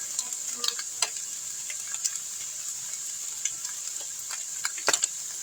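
A hot skillet of eggs and cheese sizzles steadily at close range, a bright constant hiss broken by scattered small pops and crackles, with no talking.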